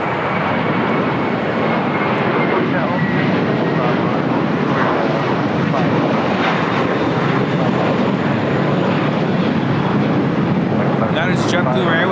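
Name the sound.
JetBlue Airbus A321 taking off at LAX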